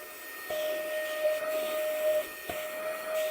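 A Xiaomi Mi Vacuum Cleaner Mini runs in turbo mode, giving a close, steady high-pitched whine and airy rush, with two brief clicks or shifts in pitch partway through.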